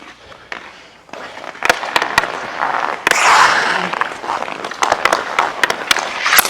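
A KYC hockey stick strikes a puck in a series of sharp, loud cracks at irregular intervals over a hollow background roar.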